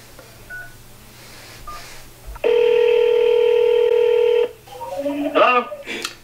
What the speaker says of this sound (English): So let's try this phone number.